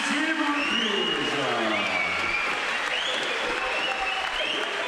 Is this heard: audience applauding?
yes